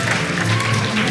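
Applause from a crowd at a university convocation ceremony honoring a psychology graduate, a steady dense wash of clapping with murmuring voices mixed in, heard up close throughout.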